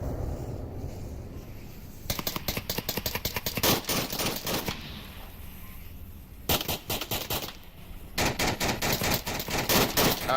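Rapid bursts of automatic gunfire in the VR shooter Onward during a competitive match, loud, dense volleys in two clusters separated by a quieter gap, with no talking.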